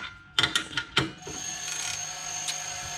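An 8mm spanner winds out a fastener during plumbing work, giving a handful of quick, close metallic ratchet clicks that give way to a steady mechanical hum.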